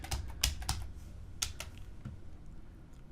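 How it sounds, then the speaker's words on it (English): A computer keyboard is tapped to type a plugin name into a search box, with a handful of distinct key clicks in two short clusters followed by quiet. "in the search box simply type WPvivid"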